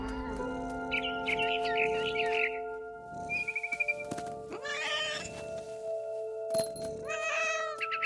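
A cat in the video game What Remains of Edith Finch meows several times, with a barn swallow chirping in short bursts nearby over a steady ambient hum.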